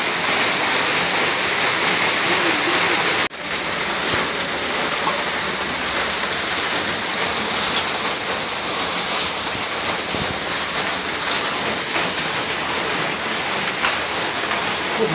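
Heavy rain roars down in a dense, constant wash of noise, with a brief dip near the start before the downpour carries on evenly and close.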